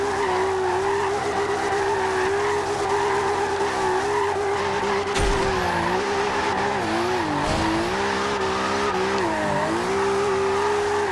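An all-wheel-drive Toyota Supra power slides in Forza Horizon 2, its tires squealing continuously over a loud, wavering engine note that dips and rises as the slide shifts.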